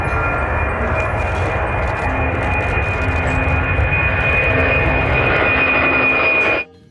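A toy airplane unboxed among toy trucks, excavators and cranes gives a steady, loud mechanical whir with a high whine, running continuously for several seconds before cutting off abruptly.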